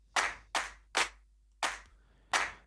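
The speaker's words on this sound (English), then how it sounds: "I want to get some claps in there." Five separate clap drum samples from music production software, crisp and close, each a sharp hand-clap hit with a short decaying tail, played one after another at uneven gaps with silence between.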